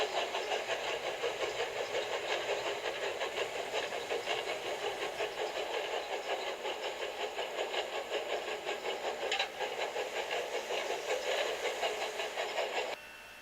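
Cartoon steam engines chuff along in a fast, even stream of hissing puffs, steady and fairly loud, continuing without pause until a sudden stop near the end.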